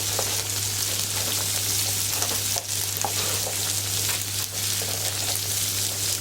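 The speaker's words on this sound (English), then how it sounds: "Give that a bit of a stir before we put the red pepper in" Chopped celery and carrot sizzling steadily in a hot pan, a dense continuous frying hiss with occasional scraping stirs and a low steady hum underneath; no voices.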